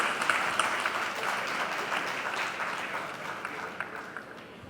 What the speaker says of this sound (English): A huge round of applause for all the dignitaries on and off the dais